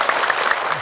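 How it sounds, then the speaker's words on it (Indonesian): A studio audience of women claps on a televised religious talk show, a short burst of even, mid-level applause with no speech. "Boleh tepuk tangan Ibu."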